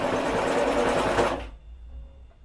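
Sewing machine stitching a fabric face mask, a fast rhythmic mechanical whir running steadily and close for about a second and a half before it stops abruptly, leaving a quiet room.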